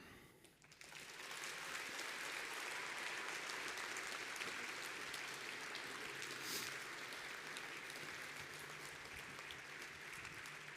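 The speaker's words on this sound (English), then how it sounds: "let's give a huge round of applause for Tejas Kumar" Conference audience applause for a speaker rises quickly after a brief quiet start, then holds as a dense, even clapping wash from a large room, fairly distant and without speech.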